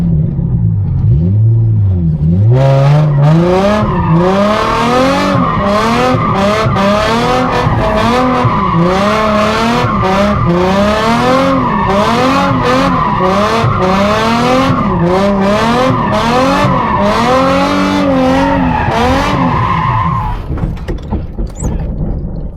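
A car drifting in tight circles around cones in the desert, its engine held at high revs with wavering pitch while the tires skid and squeal loudly and continuously for nearly twenty seconds before the noise cuts off.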